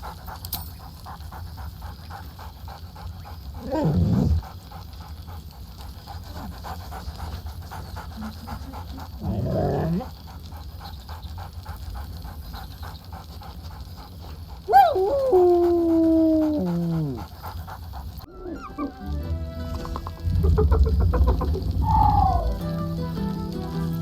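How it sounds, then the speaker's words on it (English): Scratch, a dog in the video game Baldur's Gate 3, pants steadily between bursts of short yips, whimpers and a drawn-out howling bark, each outburst close and clear against a faint musical backdrop. "Scratch barks merrily in something like agreement."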